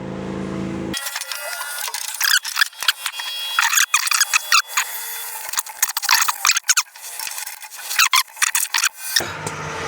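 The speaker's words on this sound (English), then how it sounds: "Use a ratchet strap." A ratchet strap being tightened during roll bar fabrication on a Willys build: repeated rasping, clicking strokes in uneven bursts, close and fairly loud, with no talking.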